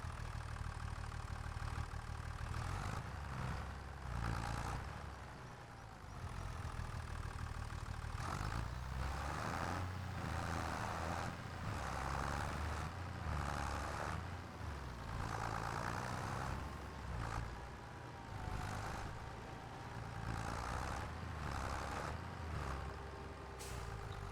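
A small tractor engine runs steadily in Farming Simulator 25, a continuous idling drone with mid-range mechanical hum that swells and eases in places, with occasional hiss like air release, no voices over it.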